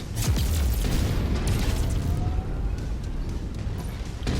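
An enemy mech blown apart in MechWarrior 5 Mercenaries, a loud booming explosion up front that rolls into a long rumbling decay.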